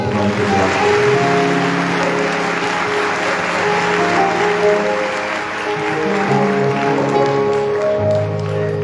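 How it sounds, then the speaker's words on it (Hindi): Loud, sustained applause fills a live praise and worship gathering in Sahiwal, with steady clapping from the congregation over held musical tones for the full stretch. "जोरदार ताली बजाएं।"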